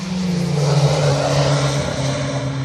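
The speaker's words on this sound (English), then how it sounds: "The cars come over the start-finish line." Classic Mini race cars at Oulton Park sweep across the start-finish line, loud engines holding a sustained rising-and-falling whine as several cars pass close together.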